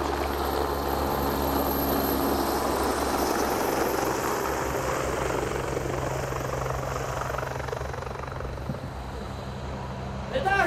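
A low-flying aircraft at a fight event drones overhead, a loud, steady engine roar with propeller or rotor rumble that fills the whole stretch and stays close.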